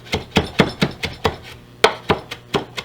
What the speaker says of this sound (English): Turn it over and do it like this, because if you scrape with the blade, it dulls your knife faster.